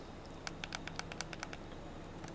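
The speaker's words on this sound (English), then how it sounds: "If you wanted me to compare this to the Switch controller, so the joystick, listen to this" Joystick on an 8Bitdo Ultimate Bluetooth controller clicking about nine times in a quick, fairly even run of sharp, quiet taps, close up, with no talking.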